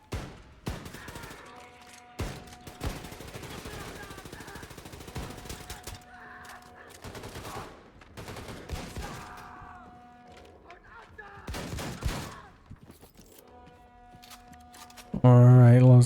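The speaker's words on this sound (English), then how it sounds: "let's go gun blazing with the shotgun" Shotgun fired repeatedly in a video game, heavy blasts spaced a second or two apart with brief gaps between, loud and close over game background sounds, ending in a sustained louder burst.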